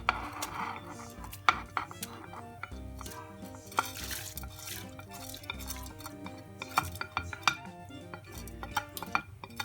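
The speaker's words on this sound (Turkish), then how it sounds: "Evet yine devamlı karıştırıyoruz" A spoon stirring a pot of soup with rice, grated carrot and potato, clinking and scraping against the metal in an irregular rhythm, close and fairly quiet with no voices.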